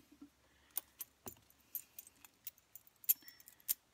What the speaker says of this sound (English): I'll have to get my keys off of this monkey fist key ring.